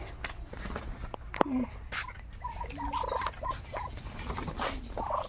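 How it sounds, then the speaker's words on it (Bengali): Ducks being carried home give rough, honking calls in short bursts, close by, over a steady background hum with faint voices and movement. "দেখছো হাঁস আনছি"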